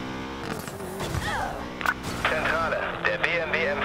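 Engines of a BMW M5 and a Koenigsegg Regera roar and shift during a police chase in the video game Need for Speed Payback, steady and fairly loud under radio-style voice chatter.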